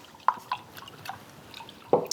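An acrylic paint brush is swished and tapped in a jar of water, giving a few soft, separate drips and splashes close by in a quiet room.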